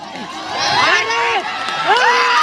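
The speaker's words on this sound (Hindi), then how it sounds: "रेडर के लिए जोरदार तालियां" Crowd at a village kabaddi match in an outdoor rural tournament, a burst of loud, close cheering and rising shouts and whoops, with some clapping mixed into the noise.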